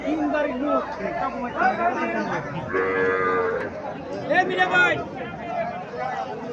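A calf moos several times, drawn-out bleating calls rising over a busy crowd of people chattering nearby at a cattle market in Chandimura, Comilla.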